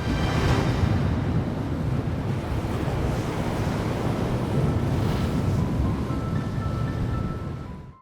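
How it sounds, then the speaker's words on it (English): Ocean waves crash steadily against black lava cliffs on a volcanic archipelago coast, a loud, continuous roar of surf with some wind noise and no pauses, fading slightly at the end. "Waves crash against black cliffs."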